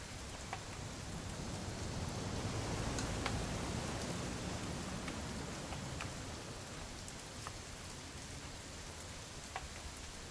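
Rain pours steadily in the video game What Remains of Edith Finch, a dense unbroken hiss with faint scattered drip ticks, no voices.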